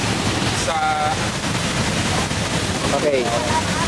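Water from the Aloha falls rushes in a steady, dense roar, with wind buffeting the microphone and a few faint tonal chirps over the flow.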